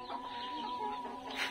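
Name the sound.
chickens clucking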